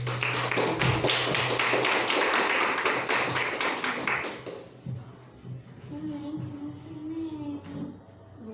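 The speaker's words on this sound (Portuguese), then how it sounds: "Aplauda ao Senhor." A church congregation at an evening service claps loudly and rhythmically for several seconds, then the clapping fades into a quieter stretch with soft sustained tones.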